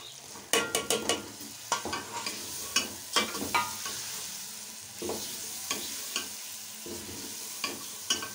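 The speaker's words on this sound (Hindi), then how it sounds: "गोश और हमारा अदरक लहसुन बिल्कुल भुन चुका है, अभी हम इसमें टमाटर ऐड करेंगे।" Tomatoes are added to a pan of frying meat with ginger and garlic for aloo chicken curry. Hot oil sizzles steadily underneath while a spoon scrapes and clatters against the pan in irregular bursts, close up.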